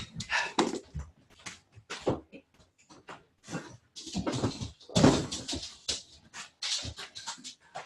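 A dog whines and whimpers indoors to be let out, with scattered bumps and a door opening amid household noise over most of the stretch.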